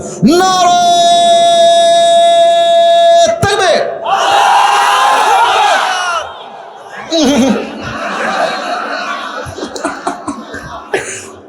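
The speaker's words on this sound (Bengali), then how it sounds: "বিবাহিত ভাইরা তাকবীর দেন" A crowd of married men at a religious gathering shouts takbir in loud, ragged bursts, the collective cries rising and falling across several waves over a lingering tone, with scattered chuckles and coughs in between.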